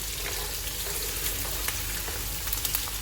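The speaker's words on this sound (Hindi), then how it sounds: "1 मिनट हो गया है, अब इसमें प्याज शामिल कर देंगे।" Chopped onions frying in a pan of oil for mutton malai boti, a steady dense sizzle with faint crackles, close and continuous with no talk.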